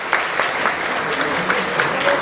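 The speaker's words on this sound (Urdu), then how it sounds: "ذرا پلیز تالیاں بجائیں" A crowd claps for a political speaker at a rally, with steady dense applause and a few sharper claps rising now and then, fairly close and continuous throughout.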